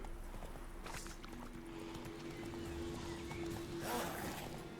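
Roach the horse trots in The Witcher 3, with faint, soft hoofbeats clip-clopping in a loose rhythm at a distance for a few seconds.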